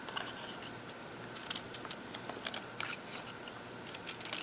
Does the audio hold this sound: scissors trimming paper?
yes